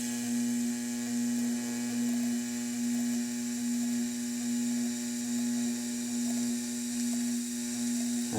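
Fusion welding on metal parts for a bagged mini truck build, a loud steady electrical buzz with a strong constant hum that pulses gently every second or so, continuing without talk until an abrupt change at the end.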